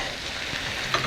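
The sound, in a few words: eggs being scrambled in a frying pan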